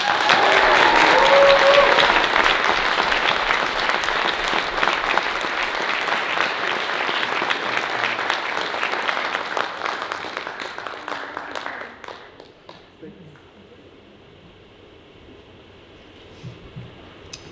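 A school concert audience applauds a band student at Montrose High School, loud sustained clapping for about twelve seconds that tapers off into near quiet with a few scattered claps.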